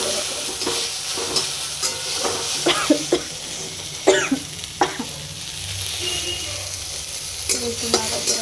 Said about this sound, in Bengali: একটু নাড়াচাড়া করে নেবো ততক্ষণ না টমেটোগুলো গলে যাচ্ছে ততক্ষণ।